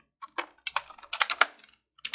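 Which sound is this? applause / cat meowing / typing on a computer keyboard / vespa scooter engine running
typing on a computer keyboard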